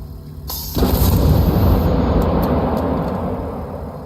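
A sudden loud, deep discharge bursts out and rumbles on as a 210,000-volt homemade lightning weapon fires, a powerful electrical blast that booms close by before slowly fading.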